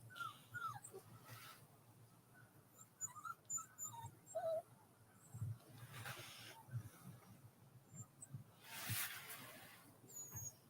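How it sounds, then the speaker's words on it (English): A small dog whines in faint, thin, high-pitched bursts scattered over about ten seconds, alongside outdoor rustling and low background noise, with no speech. "What are you whining about, little dog?"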